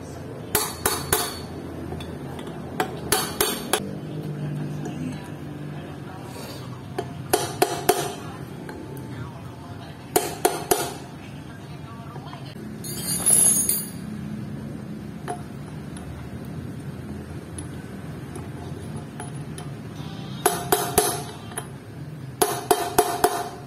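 A hammer tapping a part firmly into place during a mechanical fitting job, struck in short bursts of several sharp, metallic blows separated by pauses, close and fairly loud over a faint background hum.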